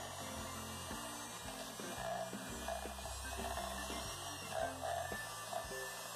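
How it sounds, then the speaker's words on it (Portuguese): An electric mixer beats batter for a low-carb, keto strawberry cake, a steady motor whine that carries on throughout under background music. "Agora a gente vai bater tudo com uma batedeira"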